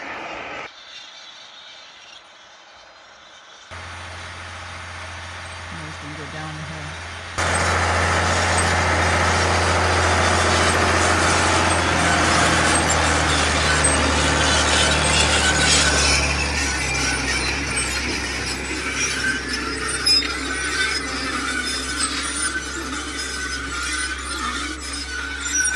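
A tractor pulling a disc harrow across a field in rolling Michigan hills, starting quieter then swelling into a loud, steady engine drone with rattling and clanking machinery over a deep low rumble.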